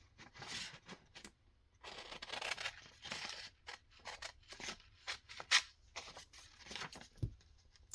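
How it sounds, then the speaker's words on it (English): Paper being cut out with scissors for a junk journal, a run of soft snipping and crisp paper rustles at close range, with quiet pauses and a brief sharper click near the end. "Okay, so I'm going to cut this out."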